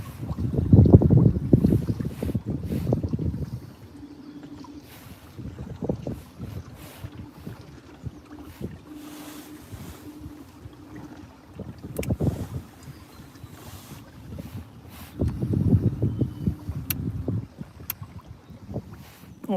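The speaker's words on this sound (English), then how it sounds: "Let me go over the other side because it's very windy." Strong wind gusts buffet the microphone on a boat out on the River Thurne in the Norfolk Broads, with rumbling surges loudest at the start and again near the end, and no voices.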